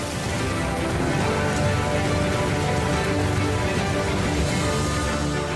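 Steady rain from a storm inside a simulated desert tank, a dense, even hiss of drops falling continuously throughout, close and fairly loud with no voices.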